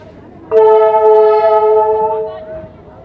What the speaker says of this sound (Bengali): কি দারুণ হংকিং দিচ্ছে। নেপাল রেলওয়ে, এই ট্রেনে কিন্তু নেপাল যায়।